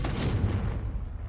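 Confringo blasting spell in the Hogwarts Legacy video game, a single short booming blast that fades quickly into a rumbling tail.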